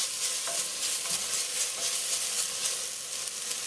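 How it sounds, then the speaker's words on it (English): Sofrito stirred in a pot over low heat, a steady soft sizzle with scraping strokes of the spoon running continuously and close, no talking. "Give that a quick stir."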